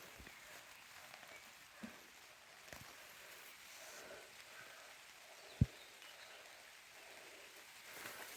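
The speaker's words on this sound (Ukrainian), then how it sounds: "Який рясний дощик." Steady soft rain patters against a surface, a constant hiss with occasional louder drops and one sharp tap.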